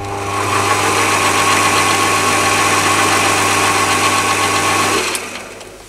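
Chinese mini lathe running with its drive gears engaged, a loud steady motor whine and gear hum that holds for about five seconds and then winds down.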